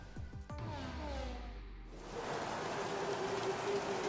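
Rain falls on the track in F1 2017 at the Hungary round. A passing engine-like sweep comes first, then a steady, fairly quiet hiss of rainfall takes over and holds to the end.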